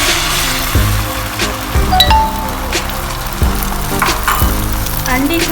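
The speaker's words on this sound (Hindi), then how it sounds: "ऑयल गर्म होने के बाद हम इसमें अंडे का मिक्सचर डालेंगे।" Egg mixture with turmeric frying in hot oil in a pan while cooking restaurant-style chicken fried rice, a steady close sizzle with occasional utensil clinks and stirring scrapes, no talking.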